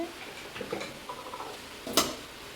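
Chicken with ginger, garlic and onion frying in oil, heard as a soft steady sizzle with faint stirring scrapes and one sharp metallic clatter near the end, close and fairly quiet.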